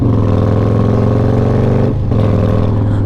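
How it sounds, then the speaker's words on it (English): A Harley-Davidson Road Glide motorcycle engine runs loud and close in a deep, lumpy idle with a brief dip and rev around the middle. "you don't realize how loud your motorcycle is until you've not ridden it for a while"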